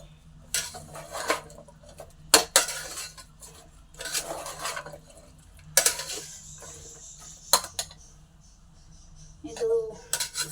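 Leftover vegetables and rice for rice bath being stirred in a pan with a metal spoon, irregular scraping clatters and clinks in separate bursts with quiet gaps between.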